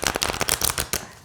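A bent oracle card deck is shuffled with effort, giving a rapid series of close, crisp papery riffling bursts that stutter unevenly for about a second.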